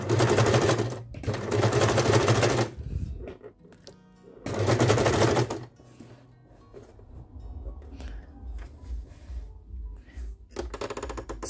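Sewing machine stitching a cord cover, running in three loud buzzing bursts of rapid stitching separated by quieter pauses, with a final short burst at the end.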